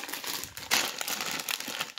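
Plastic bags crinkle steadily at close range while a Lego 18+ Everyone is Awesome set 40516 is unboxed, a dense continuous rustle with a sharper crunch partway through.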